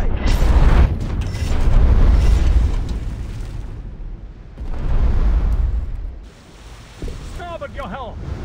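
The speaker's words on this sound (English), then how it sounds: "Torpedo away!" Submarine torpedo launch in the War Thunder Mobile naval game: loud, deep booming rumbles in two long surges, with a brief burst of voiced chatter near the end.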